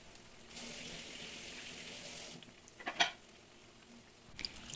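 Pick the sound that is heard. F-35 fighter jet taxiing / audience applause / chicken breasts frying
chicken breasts frying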